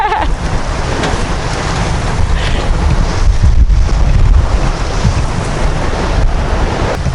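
A sailboat under way at sea in a 12-knot true wind, with steady broadband wind rush and sloshing waves against the hull, loud and continuous throughout with gusts buffeting the microphone.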